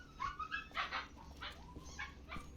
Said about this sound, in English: we got 6-week-old puppies throwing a fit